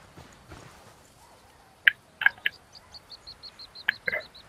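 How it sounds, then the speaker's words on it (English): Footsteps in a ranked video game match: a few sharp, close thuds in two small clusters, with a steady run of short, high electronic beeps ticking along underneath. "No, this is way too many footsteps."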